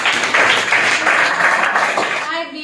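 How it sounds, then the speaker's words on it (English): A group claps together in a brisk burst of applause, which fades as a voice begins talking at the very end. "Clap for her lot."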